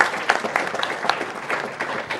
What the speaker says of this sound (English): if you're listening to the Curry Master right there clapping